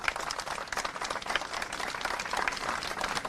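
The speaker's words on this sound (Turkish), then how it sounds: "Evet alkışlarla protesto ediyoruz arkadaşlar." A crowd of protesting teachers in Izmir claps in a steady, dense patter of applause that continues throughout without a break.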